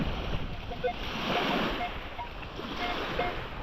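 Beach surf washes back over sand and shingle in a broad, steady rush, with wind buffeting the microphone and a few faint clicks mixed in. The wash swells and ebbs over a few seconds with no clear talking.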